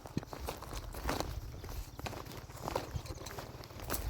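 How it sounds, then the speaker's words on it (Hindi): Footsteps crunching across dry, deeply cracked ground that breaks underfoot on a rural trek near the Narmada, heard close as a steady run of irregular crunchy steps for about four seconds with no talking. "और इस पे मैं चल रहा हूँ तो पैरों की आवाज़ सुन रहे हो आप।"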